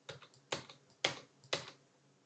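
Keys clacking on a TI computer keyboard, four distinct sharp presses about half a second apart, close and fairly quiet, with no voices.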